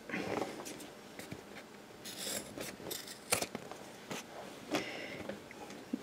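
Scissors cut through the fabric corners of a sewn tote bag, giving a series of crisp, close snips and rasping slices at an uneven pace in a quiet room.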